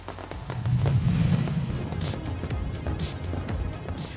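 New Year fireworks burst over Auckland's Sky Tower, a dense run of cracks and booms with crackling bursts throughout, loud and continuous.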